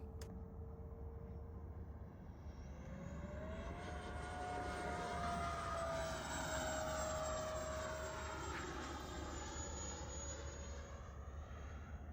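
A steady, roaring whine from a Flyfans K8 Karakorum 80mm electric ducted-fan RC jet flying by, with a rising and falling pitched tone over a constant rushing drone.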